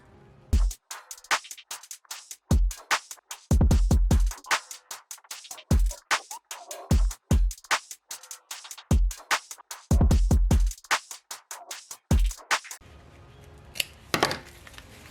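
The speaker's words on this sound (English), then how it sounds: "let's cut the spikes" Scissors snip through ribbon spikes while a boutique hair bow is being made, giving many sharp, close clicks in quick bursts with short pauses between them, and no talking.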